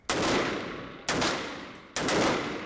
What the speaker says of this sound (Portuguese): Eduardo Bolsonaro também praticou tiro no estande da polícia.